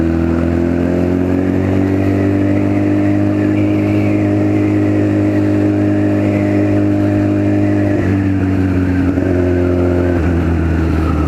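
A Honda Fireblade sportbike engine under way while riding, a loud, steady mid-pitched drone that holds its note, then dips in pitch twice as it changes speed, with no voices.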